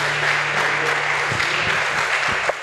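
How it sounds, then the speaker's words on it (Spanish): A church congregation at a Sunday service breaks into strong, dense applause, a steady, loud wash of clapping with a low musical hum underneath throughout. "Dale un fuerte aplauso al Señor."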